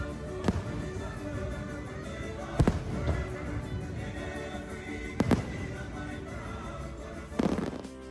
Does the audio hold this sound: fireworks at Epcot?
yes